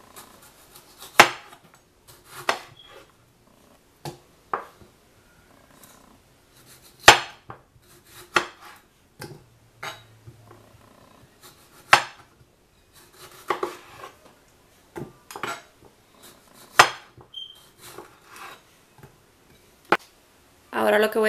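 Knife halving cleaned tomatoes on a cutting board, then tossing them into a blender jar for a vegetable broth: sharp, irregular chopping knocks and clunks with pauses between, close and fairly loud, no talk.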